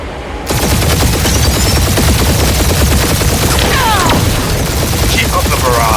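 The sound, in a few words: spaceship weapons barrage in Guardians of the Galaxy video game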